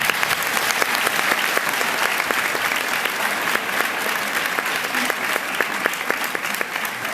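Audience applause at a fan convention panel, sustained close clapping from a large crowd with sharp individual claps standing out, steady throughout.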